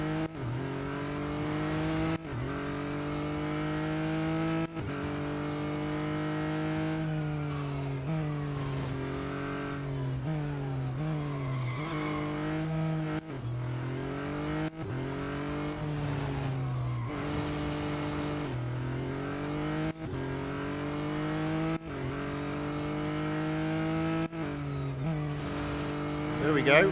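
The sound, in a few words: race car engine and tires in video game Real Racing 3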